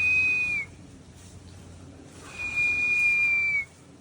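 A person whistles outdoors in a rural yard in two sustained, steady high notes, the first brief and the second longer, separated by a pause with quiet ambient background.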